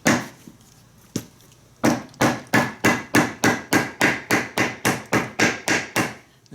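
A hammer pounds a new flat sole onto a work boot: two isolated blows, then a steady run of about fifteen sharp, evenly spaced strikes, close and loud with no talking.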